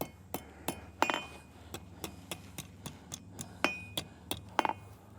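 A series of light metallic taps from a 2.5 pound hammer on the edge of metal being scrolled, about a dozen evenly spaced strikes with ringing, clinking tails, close by and fairly quiet, with no talking.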